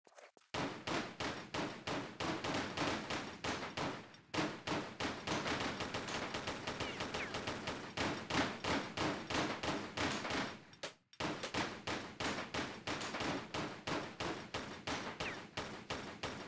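Lara Croft's pistols in Tomb Raider 3 fire in a long steady rapid stream of sharp, evenly spaced shots, loud and dry, pausing briefly twice before resuming.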